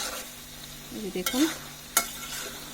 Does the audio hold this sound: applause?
no